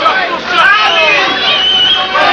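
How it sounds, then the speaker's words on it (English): A boxing arena crowd chants Ali, a loud, sustained mass of voices with rhythmic rises and falls filling the hall throughout. "Crowd chanting Ali."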